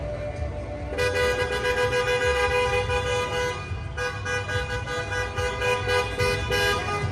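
Car horns honking in a wedding procession on a Christmas night street in Valdivia, Chile, with long, loud, continuous toots from several horns layered over the engine rumble of the vehicles, and no talking.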